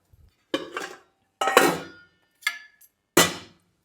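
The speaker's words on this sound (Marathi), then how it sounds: "त्याच्यावर मी ठेवणार आहे आता झाकण" A metal lid set down on a pot of sweet semolina sheera cooking over low gas, giving four separate clanking, clattering metallic knocks spaced apart, close and fairly loud with brief ringing tails.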